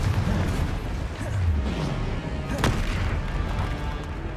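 Confringo fire spell bursting in Hogwarts Legacy, a loud booming blast with a sharp crack near the middle, set in dense, continuous combat noise.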